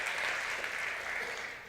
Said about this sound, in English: claps keep me going, so keep it up.